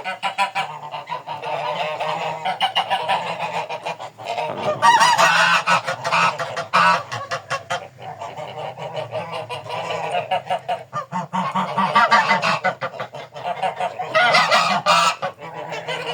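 A flock of domestic geese honks loudly and repeatedly in a farmyard during an evening round, with overlapping calls rising and falling in bursts throughout.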